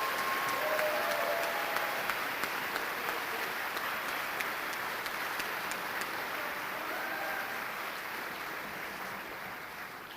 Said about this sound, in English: So can we give these guys one more big round of applause?